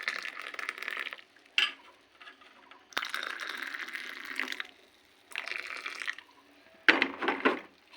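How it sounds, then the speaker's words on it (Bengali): Milk is poured from a container in several short bursts, each a soft splashing trickle lasting about a second with quiet pauses between, fairly close and gentle in a home kitchen. "দুধটা ঢেলে দেবো।"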